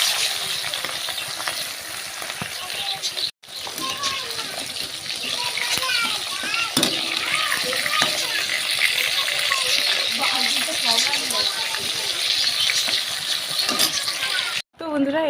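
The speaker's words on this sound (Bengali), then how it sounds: "চলো, তেল গরম হয়ে গেছে, মাছগুলো দিয়ে দিই।" Fish sizzle and crackle in hot oil in a home kitchen, a steady frying hiss running throughout with bubbling, while a voice talks over it now and then.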